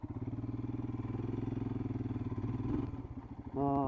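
Motorcycle engine labouring off-road up a hill toward Siddeshwara Betta near Kollegal, a steady rumbling drone with rhythmic pulsing that briefly dips, then a louder, smoother tone near the end.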